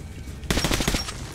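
Rapid automatic gunfire from the video game Metro: Last Light bursts in loud and close after a half-second lull, a dense rattling volley that runs to the end.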